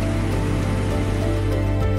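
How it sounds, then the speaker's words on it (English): Heavy rain falls at night in Venice, Italy, a steady dense broadband hiss of drops pouring on surfaces, loud and continuous, with no voices. "Italy is raining heavily tonight."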